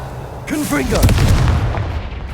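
A Confringo fire spell goes off in the Hogwarts Legacy video game, a loud booming blast with crackling bursts of energy that sustains for about two seconds under a muffled voice.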